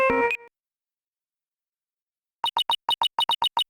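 A cellphone rings in Ace Attorney: Dual Destinies: after a brief tonal chime and a long silence, a rapid series of about ten bright, evenly spaced electronic trill pulses sounds clearly, with no talk.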